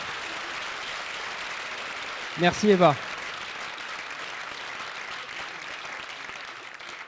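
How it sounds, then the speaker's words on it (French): An audience bursts into brief applause for Eva Joly, a short loud round of clapping lasting under a second amid the hum of a crowded room, with someone speaking afterward. "Vous pouvez l'applaudir, s'il vous plaît, encore plus fort"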